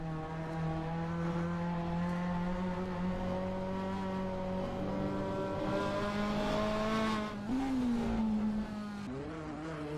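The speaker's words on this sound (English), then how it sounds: "the sounds of cheering fans should just barely be audible over the roar of the engine" A GT race car's engine roars loud and steady in a racing video game at the Nurburgring sprint circuit, its sustained tone holding near constant before a brief pitch rise and dip as the car shifts, with no voices.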